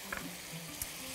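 Chicken with wilted onions and tomatoes frying in a pan, giving a steady, soft sizzle with a few faint stirring scrapes and no voices.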